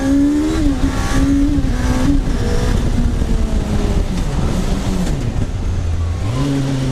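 A car fitted with a Suzuki GSXR1000 superbike engine revs hard and accelerates, loud and close, its pitch climbing, dipping and climbing again through the gears.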